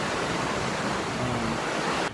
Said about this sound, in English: All right, so we at the beach right now.